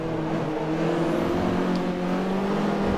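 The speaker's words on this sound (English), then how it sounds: "Kinda forgot this is a front wheel drive car, so stabbing the throttle may not provide the best results" Engine of a front-wheel-drive SEAT club car in Forza Motorsport 3 drones steadily under throttle, a continuous mid-pitched hum with no talk.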